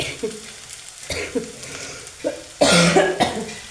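Several short, harsh coughs from a person with a lingering cough burst out at irregular moments, the last one loudest, over the soft sizzle of a pan on a gas stove.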